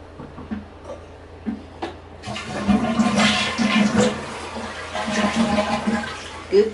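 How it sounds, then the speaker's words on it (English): A household toilet flushes nearby, a long rushing swirl of water that swells and keeps running to the end after some quieter bathroom noises. "And she is going to flush the"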